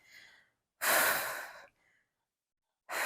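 Audible breaths during a Pilates reformer leg exercise: a soft breath at the start, then a strong, close, drawn-out exhale lasting nearly a second, a faint trailing puff, and another strong breath beginning at the end, with no talking.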